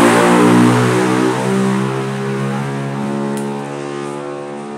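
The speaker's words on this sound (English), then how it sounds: "You'll hear a motorcycle run by once in a while." A motorcycle rides along a main road across from a beach, its engine a loud, sustained droning whine that holds close and steady, easing slightly as it passes, with no voices.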